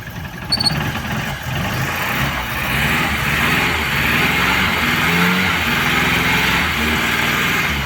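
A cold Opel Corsa engine idles on gas while warming up, a steady low rumble throughout with a faint higher whine, close and fairly loud.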